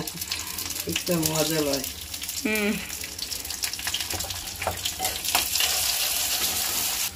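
Onions frying in a pan for a home-cooked lunch, a steady sizzle running throughout, with a voice talking and singing over the cooking sounds.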